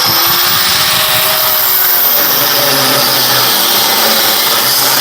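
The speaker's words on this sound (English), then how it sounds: "I just cut it off here with the cutoff wheel" A cutoff wheel grinds through metal on a 1963 Corvair engine. It makes a loud, harsh, continuous high-pitched shriek up close, running steadily the whole time with no talk heard over it.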